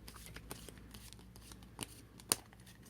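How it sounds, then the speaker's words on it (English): Tarot cards being shuffled, a quiet run of soft papery riffles and taps with one sharper snap near the end, no voices. "let's shuffle the cards again"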